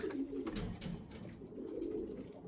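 Pigeons coo softly and continuously at close range in a loft, a low murmuring burble with faint higher chirps over it and no voices.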